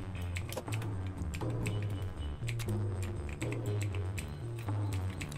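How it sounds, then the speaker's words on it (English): A computer keyboard's directional keys are struck in quick irregular bursts of clicky taps, close and distinct over a steady low game hum. "hitting the directional keys is only going to slow me down"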